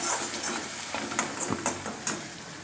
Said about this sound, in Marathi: हे मसाला कमी गॅसवरच तळून घ्यायचा